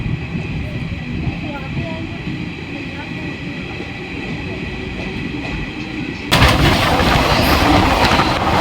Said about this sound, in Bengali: এইগুলো সব কিন্তু কুমোয়েলা স্পেশাল ট্রেন দেখেছেন